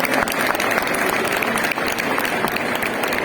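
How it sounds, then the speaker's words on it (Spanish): An audience at a cheese auction for prize-winning Gamoneu cheese breaks into sustained, dense applause, many hands clapping loudly and evenly from start to end. "Un aplauso para Casa Morán."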